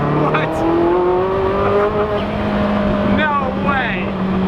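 Ferrari F40 twin-turbo engine running from inside the car: a loud, constant engine drone with rising turbo whine and a few sharp pops, heard under people talking.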